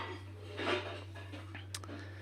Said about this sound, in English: My wife is starting the dishes. If you can hear a banging, that's okay.